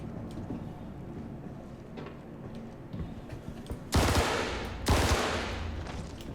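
Crossfire gunfire in the video game Star Citizen, distant scattered shots and rumble building into two loud, close bursts of heavy fire near the end.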